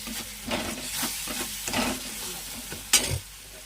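Spice masala of chili and turmeric powder fries and is stirred in a pan, a close hissing sizzle broken by rhythmic scrapes and one sharp clatter near the end.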